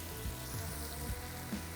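Onions sizzle in hot oil with a soft, steady crackle and hiss, quiet and continuous, with occasional faint stirring, while cooking prawn pollichathu.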